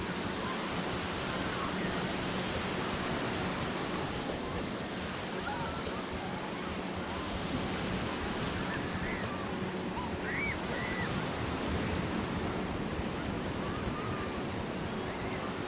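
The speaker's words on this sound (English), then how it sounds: "I love the sound of the beach." Ocean surf washes onto a beach in a constant broadband roar with some wind across the microphone, steady and loud, with no clear voices over it.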